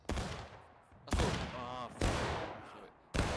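Musket volleys crack out in the video game War of Rights, four loud booming bursts spaced about a second apart, each rolling away into echo, with voices speaking faintly between shots.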